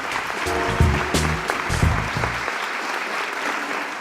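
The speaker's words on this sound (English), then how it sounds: "Round of applause." A podcast audience applauds in a round of dense clapping over low, pulsing tones that sound like music, with a few sharper bursts in the first half.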